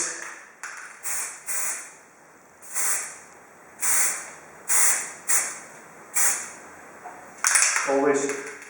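Short hissing bursts of a spray primer can coating miniatures, about nine separate sprays in an even rhythm, close and fairly loud, with a brief lower rattle near the end.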